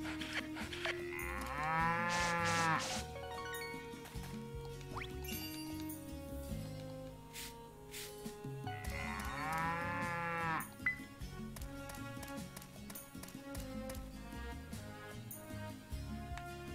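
Cows mooing in the farming video game Story of Seasons: Pioneers of Olive Town, two long lowing calls at about two and ten seconds over steady game music, with no talking.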